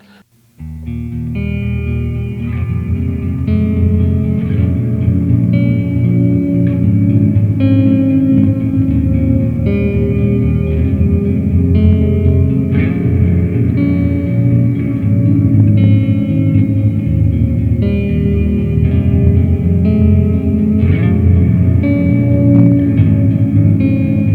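An electric guitar plays through a Walrus Audio Fundamental Ambient pedal on its haze reverb setting, with sustained notes and chords washing into a thick, shimmering reverb tail. The loud, continuous wash plays alone from start to finish.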